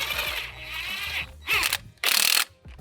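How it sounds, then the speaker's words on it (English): A spring compressor is cranked tight on a coilover spring from an R56 Mini Cooper, giving close metallic ratcheting clicks in short bursts, with two louder grinding spells near the end. "There you go, that's compressing the spring."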